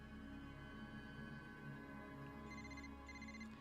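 A phone rings inside the game Wuthering Waves, a steady electronic ringtone pattern repeating near the end over a dense layer of game music and ambience, with no talking.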